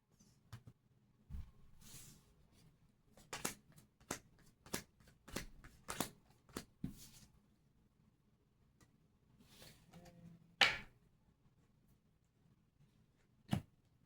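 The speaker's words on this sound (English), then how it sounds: "Final shuffle." Tarot cards are shuffled in a quiet room, giving a series of sharp riffling snaps and soft slides at irregular intervals, close and fairly faint, with no talk.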